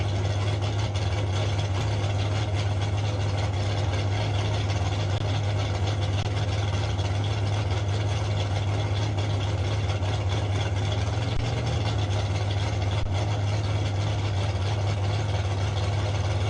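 A drag racing car sits at the line at a Division 5 ET finals meet at Pueblo Motorsports Park, its engine idling in a steady, unbroken low rumble that holds level throughout with no talk over it.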